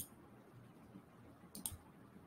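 A single mouse click on the daily notes button of the Obsidian app, faint and brief, above a low steady room hum with no talking.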